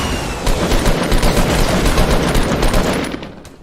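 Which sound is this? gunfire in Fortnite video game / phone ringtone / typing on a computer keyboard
gunfire in Fortnite video game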